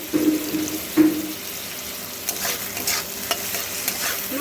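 Carrot and onion fry with salt in a pan for cabbage Manchurian, a soft steady sizzle broken by stirring scrapes and light clatter, close and moderate, with no talk.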